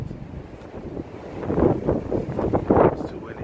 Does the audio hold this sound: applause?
no